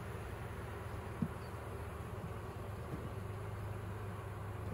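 Honeybees from a nucleus colony in an opened Dadant hive give off a steady, close, low buzzing drone that holds without a break throughout, with no talking.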